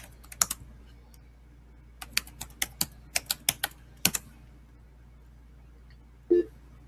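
Full email address typed on a computer keyboard: scattered clicky keystrokes, a quick burst then a steadier run of separate taps, close and fairly light, with a short low thump near the end.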